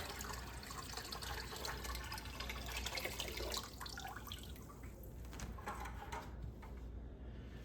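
Water poured from a bucket into a home fish aquarium during cleaning, a close, continuous gushing splash that softens and thins toward the end.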